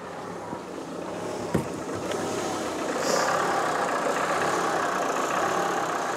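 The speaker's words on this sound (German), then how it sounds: "Der Motor hat diverse Probleme, der Leerlaufregler funktioniert nicht." A car engine with a faulty idle control valve idles roughly and unevenly, a steady low rumble with a faint wavering rhythm and one brief click partway through.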